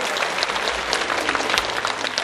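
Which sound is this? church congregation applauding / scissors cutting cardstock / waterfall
church congregation applauding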